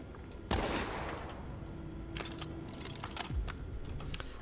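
Several sharp gunshots from a weapon in the Borderlands 3 shooter game, heard as scattered isolated cracks with faint clicks in between, fairly quiet and with no talking.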